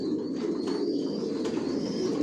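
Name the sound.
racing pigeons cooing in a loft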